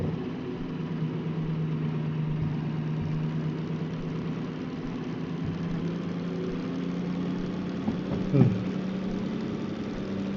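A DM3 diesel locomotive in the Derail Valley game drones steadily at high revs, its low engine tone rising gradually, with a brief clunk near the end.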